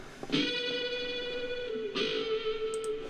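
A heavily distorted electric guitar sustains a bent note with a thick, fuzzy tone, briefly re-struck partway through, ringing loudly on its own in a recording session.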